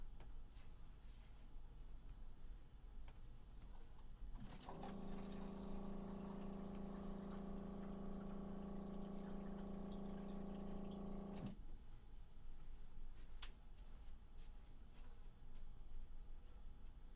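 An office water cooler dispenses water as a steady, low droning hum that runs about seven seconds and then stops abruptly, with faint room noise before and after.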